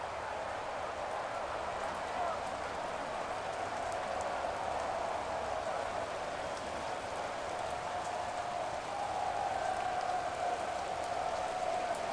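Steady rain falls on a stadium during a Madden NFL video game football match, a soft, even hiss of drops with a faint crowd murmur beneath it that holds for about twelve seconds.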